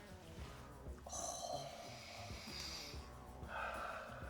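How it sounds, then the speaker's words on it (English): Several short, close nasal sniffs at a jar, soft and breathy, repeated a few times in quick succession. "Let's give it the sniff test."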